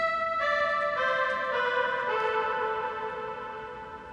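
FM Voices 2 synth preset with filters 1, 2 and 4 switched off plays a bright, buzzy chord that steps down through a short descending progression. It is held and fades slightly at the end, with no one talking.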